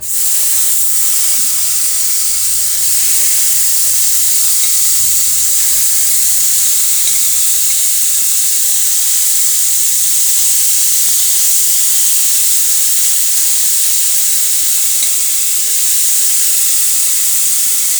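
Steady, bright sizzling and hissing of beef frying in a hot pan, loud and continuous throughout, with no talking.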